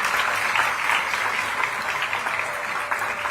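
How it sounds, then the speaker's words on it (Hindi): A crowd in Raipur, Chhattisgarh, claps to welcome the chief minister at a medical college hospital inauguration, producing a steady, dense wash of applause throughout with no breaks or speech. "जोरदार तालियों के साथ स्वागत।"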